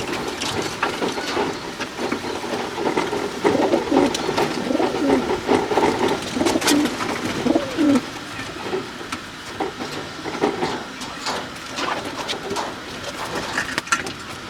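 Pigeons in a loft coo in repeated soft, throaty calls over a busy background of rustling and wing movement, fairly close and steady, with no talking.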